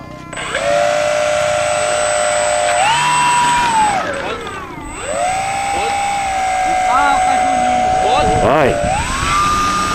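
A Piper aircraft engine runs with a steady buzzing drone that rises and dips in pitch as the throttle changes. It is loud and close, with people talking over it.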